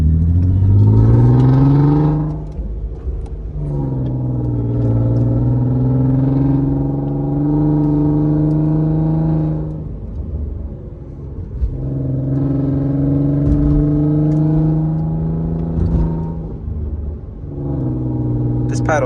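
The engine of an Audi TT fitted with a VR6 is loud and close from inside the cabin as it accelerates through several gears, each pull rising in pitch before a shift drops it back down, with a steady rumble throughout.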